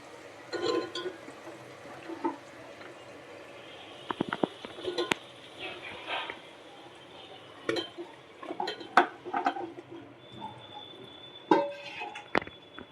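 Muthiya dhokla being stirred in a pot: scattered metallic scrapes and clinks of a spoon against the vessel, with soft wet shuffling of the mixture in between, close and fairly quiet.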